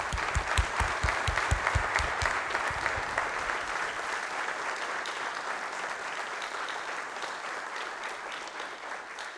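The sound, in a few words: applause for armed forces veterans and first responders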